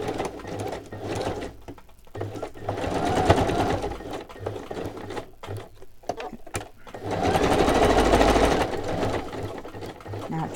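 A home sewing machine runs a zigzag stitch in two long whirring bursts with a rhythmic mechanical chatter, close and fairly loud, while someone talks between runs.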